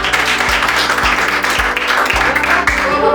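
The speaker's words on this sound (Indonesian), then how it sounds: "Aplaus untuk kelompok 1." A classroom audience applauds for group 1, a steady wash of clapping that keeps going without a break, loud and close.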